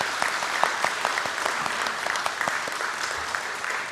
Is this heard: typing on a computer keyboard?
no